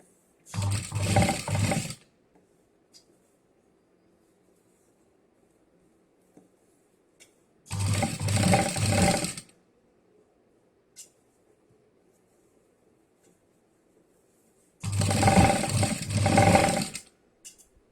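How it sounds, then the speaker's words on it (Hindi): A sewing machine stitches folded fabric with non-woven lining for a large travel bag, running in three short close bursts of rapid mechanical whirring separated by quiet pauses. "ऐसे फोल्ड करके यहाँ पे स्टिचिंग कर लेनी है यहाँ पे"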